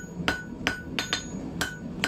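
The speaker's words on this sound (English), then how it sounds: "Now just hammering on each 8 sides" Hot steel is hammered into an eight-sided taper while forging an icicle, six sharp ringing hammer blows landing at an irregular, roughly steady pace, close and loud with no talk.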